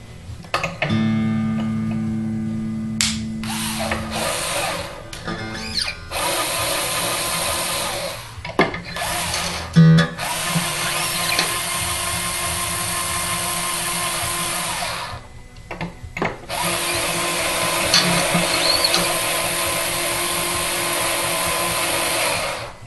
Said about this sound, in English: About the cheapest little cordless drill you could find